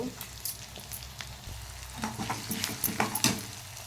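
Onions, green chilies, curry leaves and ginger garlic paste sizzle and crackle in hot oil in a pan, with steady frying and scraping stir sounds close by.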